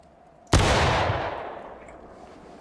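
A single rifle shot rings out in the video game War of Rights, fired from a kneeling position: one sharp, loud crack followed by a long rolling decay that fades over about two seconds.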